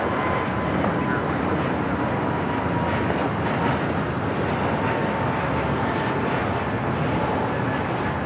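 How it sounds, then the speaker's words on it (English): A Frontier Airbus A320neo in Elk livery takes off from LAX for Houston, a broad steady jet roar sustained throughout with a faint tonal whine, and a voice talking over it. "Next takeoff is Frontier. LRA, the Elk livery heading to Houston, Texas. It's an A320 Neo."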